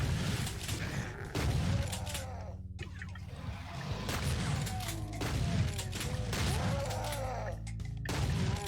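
Chaingunner enemies fire in the video game Doom, with loud, dense bursts of rapid gunfire and crashing game effects that come in repeated waves with brief gaps.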